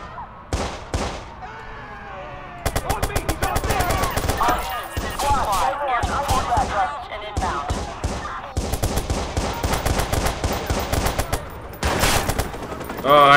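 Video game gunfire from Watch Dogs: rapid machine-gun bursts and single shots rattle in repeated volleys across the whole stretch, loud and close, with only brief gaps between the strings of fire.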